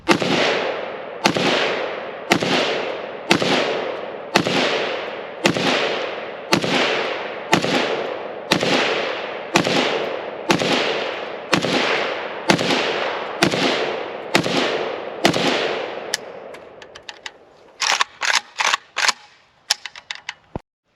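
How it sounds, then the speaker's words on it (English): A Pioneer Arms AKM sport rifle fires at an outdoor range: about fifteen loud, evenly spaced single shots with reverberant tails, followed by a faster, quieter cluster of sharp reports. "very first rounds through the Pioneer using the supplied waffle mag"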